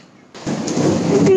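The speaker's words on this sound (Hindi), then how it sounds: "बिजली कड़क रही है।" Thunder crackles during a storm: quiet air gives way to a sudden loud, harsh roll that swells and holds, broad and crackling, to the end.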